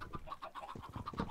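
Minecraft chickens cluck in a short repeated series of soft, hollow calls, several bursts in quick succession, moderately near and quiet, with no talking over them.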